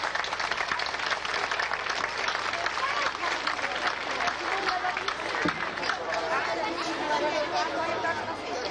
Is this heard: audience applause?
yes